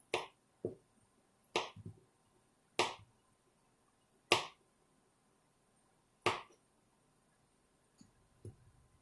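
A knife chopping through a nearly full bar of butter on a board, about six sharp, separate cuts spaced a second or two apart, close and crisp, with quiet pauses between them and no talking.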